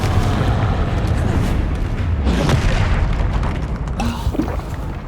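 A Confringo fire-blast spell explodes in the Hogwarts Legacy video game, a loud, sustained booming rumble that fills the whole moment, with a second burst of crackling impact near the end amid dense battle noise.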